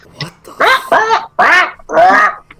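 A person imitates the bird squawks of Kazooie from Banjo-Kazooie, four loud, raspy, quacking squawks in quick succession, close to the microphone.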